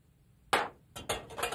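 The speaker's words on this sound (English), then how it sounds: "And whisking." Heavy cream with vanilla is whisked in a bowl, producing a few quick clinking, scraping strokes of the whisk against the sides, close and distinct.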